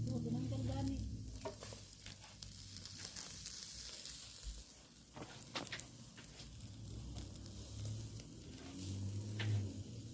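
Chicken gizzards sizzling on a grill, a steady, soft crackle with faint pops throughout, fairly distant and low in level, with no talk over it.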